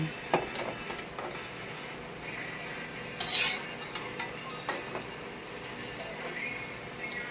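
Food stirred in a frying pan: faint, close scraping and occasional metallic clinks of a utensil against the pan over a low background, with soft talk at times.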